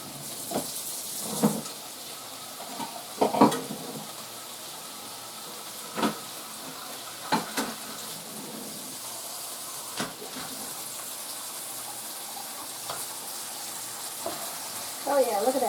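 Pineapple chicken sizzles steadily in a hot pan as a cornstarch-and-water glaze thickens, a continuous close hiss broken by occasional clinks and clatters of utensils and dishes.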